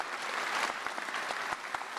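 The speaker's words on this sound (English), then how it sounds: "So give yourselves a round of applause." Audience at a 2023 nursing pinning ceremony applauding, a full dense burst of many hands clapping with a few louder claps popping through.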